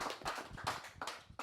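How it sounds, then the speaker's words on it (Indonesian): A small audience at an indoor talk-show event claps in a quick, faint burst of several separate hand claps, heard alone and fairly distant. "Tepuk tangan dulu dong."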